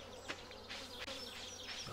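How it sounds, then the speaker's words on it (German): Bees buzz in the Stardew Valley farming game, a steady close insect drone that holds for about two seconds with slight wavering pulses. "Oh, also wenn ich Bienen höre"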